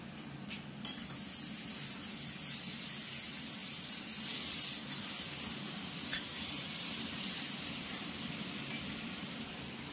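Spices sizzling and frying in hot refined white oil in a pan, a steady dense crackle running throughout with a few brief spatters and scrapes, close and fairly loud.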